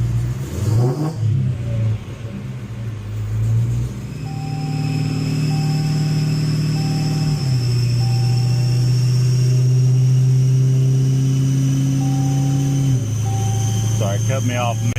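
A supercharged Dodge Hellcat with a 3.8 Whipple revs hard on a dyno, a loud mid-pitched engine note climbing and holding through two rising pulls with a brief dip between them, and a voice talking early on.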